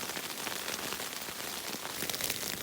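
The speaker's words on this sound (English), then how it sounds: "And it starts again. Rain, rain, go away." Steady rain falls outdoors near a strongly flowing water source, a dense continuous patter of drops on surfaces with no pause, moderately loud and alone without voices.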